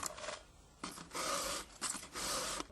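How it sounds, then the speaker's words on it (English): Hand file sharpening the cutters of a chainsaw chain, heard as a few close, faint rasping strokes of metal on metal, each lasting about half a second, with brief pauses between. "File all the chain cutters to exactly the same length"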